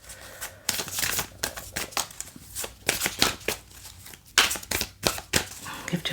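Numerology oracle cards are shuffled repeatedly close up, bursts of riffling flutter and soft slaps in quick succession with short pauses between.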